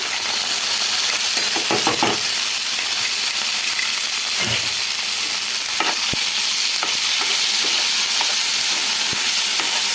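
Masala fries in a pan with a loud, steady sizzle and hiss, broken by occasional scraping and clinking of a spoon stirring against the pan, close up and with no voices.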